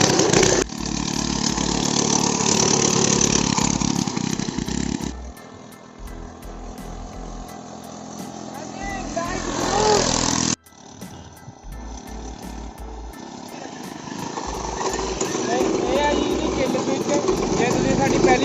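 The small 35cc engine on a homemade motorcycle runs with a loud, steady buzzing idle, then drops quieter before revving back up. Someone talks over it.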